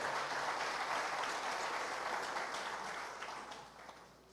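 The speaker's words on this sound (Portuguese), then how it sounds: "Aplauda Jesus e fica de pé" Church congregation applause filling a large room, sustained clapping that gradually fades toward the end.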